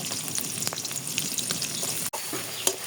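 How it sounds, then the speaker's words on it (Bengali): Onion and green chili sizzle in hot oil in a pan while preparing a Bengali curry of koi fish with potatoes, a steady close crackle with scattered pops and a brief break near the end. "তেলটা গরম হয়ে গেছে দিয়ে পেঁয়াজ কাঁচামরিচ দিয়ে দিতে"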